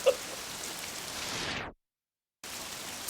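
Rain pours steadily with a dense hiss in a Kamen Rider show scene, cutting to complete silence for a moment before the downpour resumes.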